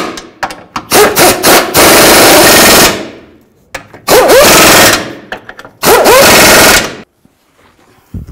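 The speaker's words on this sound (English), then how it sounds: "And tighten these bolts down." An impact wrench tightens the cross member bolts on a 2008-2012 Ford Escape during catalytic converter replacement, firing in three loud, close, rattling bursts of a second or two each, with pauses between and no talk.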